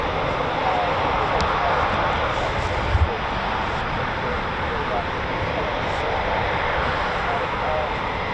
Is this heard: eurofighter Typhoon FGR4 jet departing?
yes